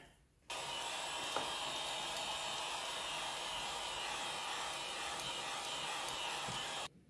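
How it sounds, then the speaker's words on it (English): A steady, high-pitched electric heat gun whirs continuously for several seconds while repairing a car's rear window defroster lines, starting and stopping abruptly, close by with no talking. "use a heat gun"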